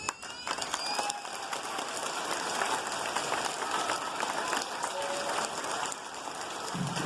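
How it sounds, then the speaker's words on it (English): An audience at an elementary school Veterans Day program applauds for veterans, a steady, moderately distant wash of clapping filling the room for several seconds. "That applause is for our veterans."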